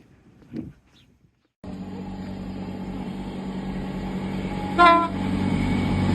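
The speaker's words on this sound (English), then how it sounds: "you film a train going past, train toots" After a brief quiet moment, a steady rumble of a passing train builds, and a short loud horn toot sounds near the end.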